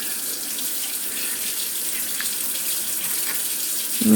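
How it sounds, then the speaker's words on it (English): Tap water runs steadily into a pan of pumpkin seeds, a continuous close hiss of flowing water that swells slightly louder at the very end. "Now just add water to the pan."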